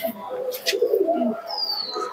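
A pair of kaldoma pigeons gives a short, close, soft throaty coo lasting about two seconds.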